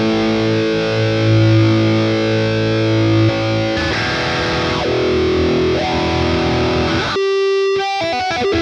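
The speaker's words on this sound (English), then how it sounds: "with this patch, we've got the first expression pedal as a volume wah." An electric guitar played through a Boss Katana amp with a volume wah expression pedal rings out distorted, sustained chords that sweep and swell in tone, then breaks into sharp, choppy stabs near the end.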